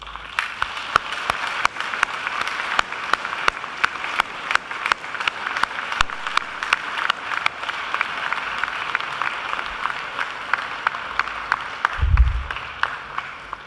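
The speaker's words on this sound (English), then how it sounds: "I invite you to give them a mighty round of applause." Sustained applause from a large crowd, a dense even wash of clapping that continues steadily throughout.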